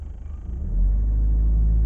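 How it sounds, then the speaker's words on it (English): A car engine, which sometimes sticks at 1500 RPM, swells from a lumpy idle into a deep sustained rumble as the throttle is blipped, loud and close with no voices. "if I blip the throttle, I get like a sticking point at like 1500 there"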